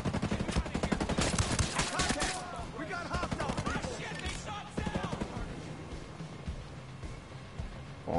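Rapid bursts of automatic gunfire crackle through a video game shootout, dense and continuous in the first seconds and then sparser, repeated volleys, with voices talking over the shooting.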